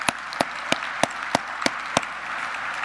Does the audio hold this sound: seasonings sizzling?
no